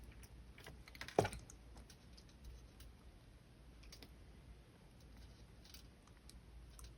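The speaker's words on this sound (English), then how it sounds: "I'm going to snip it." Wire cutters snip core wire once during coiled hoop-earring wire wrapping, a single crisp click heard close in a quiet room, followed by faint scattered ticks and handling noises.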